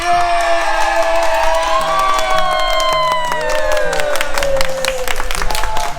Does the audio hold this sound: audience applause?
yes